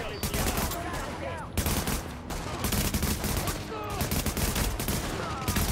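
Gunfire in the video game The Division, sounding like firecrackers: loud, dense, continuous rattling shots and bursts throughout, with some faint voice-like sounds mixed in.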